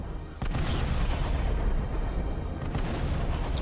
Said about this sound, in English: I'm just demonstrating its plasma cannons. As you can see, that's a pretty decent rate of fire.